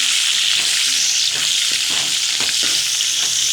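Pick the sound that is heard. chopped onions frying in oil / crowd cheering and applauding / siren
chopped onions frying in oil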